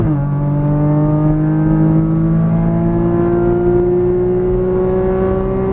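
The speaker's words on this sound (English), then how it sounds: "let's go ahead and start squeezing on that throttle as we start unwinding the steering wheel. And upshift once." Porsche Cayman GTS engine revving hard as it accelerates on a race track, loud and close, with rising pitch through one upshift partway and then climbing again.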